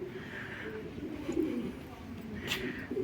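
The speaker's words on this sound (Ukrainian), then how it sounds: "Голуби співають." Soft, low pigeon cooing outside a synagogue in Kraków, Poland, a few muffled coos with faint background murmur and a brief higher chirp.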